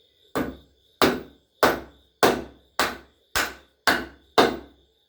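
A hammer drives a CV axle into the inner race of a 2009–2011 Chevrolet Aveo, eight sharp, evenly spaced metallic blows about half a second apart, loud and close with silence between strikes.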